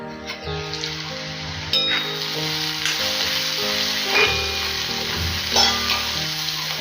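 Spices fry in a pan for a curry, a loud, dense sizzle with stirring scrapes, and a melodic background tune runs underneath.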